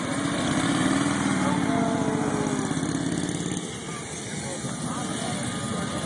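A 1936 Harley-Davidson Knucklehead motorcycle engine runs at an outdoor field-games event at the Harley-Davidson Museum, giving a loud, steady, close rumble that eases slightly partway through, with background voices.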